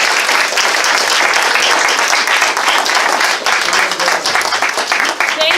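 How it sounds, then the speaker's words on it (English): An audience at an anti-war gathering applauds steadily, dense clapping held at full strength for several seconds before thinning slightly near the end. "Let's give a round of applause"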